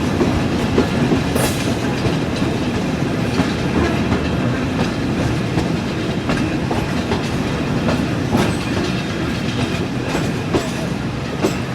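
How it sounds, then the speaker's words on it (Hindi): Rehman Baba Express passenger train in Pakistan running on rails, a loud steady rumble with rhythmic clickety-clack of wheels over rail joints throughout, heard from on board. "तो ट्रेन मेन लाइन को छोड़कर लूप लाइन की तरफ आ रही है।"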